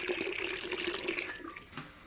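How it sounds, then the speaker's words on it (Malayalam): Water pouring to fill a bucket, used for watering plants with manure in a garden; a steady, fairly close splashing rush that runs throughout and softens toward the end, with no talk. "ആ ബക്കറ്റ് നിറച്ചിന് വെള്ളം ഒഴിക്കും"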